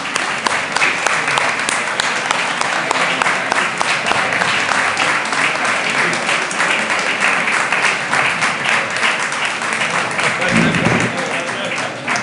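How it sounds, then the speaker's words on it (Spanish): An audience in a lecture hall applauds steadily, a continuous loud patter of many hands that fills the whole span, with a brief low thump near the end. "que es el que merece un aplauso, es don Pietro Torrigiano."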